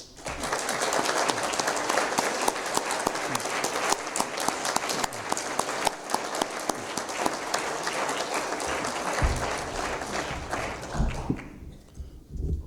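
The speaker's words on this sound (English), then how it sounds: "if you'd please give them a round of applause" Williston town meeting attendees give a long, sustained round of applause, dense and even across most of the span, thinning out in the final second with a few stray claps and a low thump.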